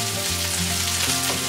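Striped bass fillets seasoned with kosher salt and pepper fry in a hot cast iron skillet, giving a steady, close sizzle with a low hum beneath and no talking.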